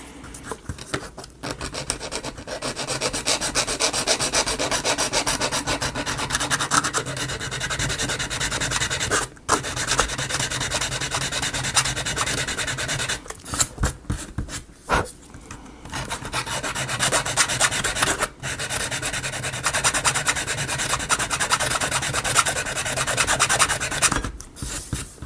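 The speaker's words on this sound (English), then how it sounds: "Let's see here, sandpaper." Sandpaper rubs back and forth over small wooden pieces of a miniature coffee house kit, a close, continuous scratchy rasp with a few brief pauses and no talking.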